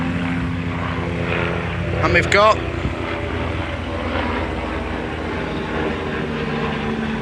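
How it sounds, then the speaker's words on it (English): A helicopter flying overhead near a railway level crossing, a steady droning rotor and engine hum that swells and holds throughout, with a person speaking briefly over it. "Helicopter."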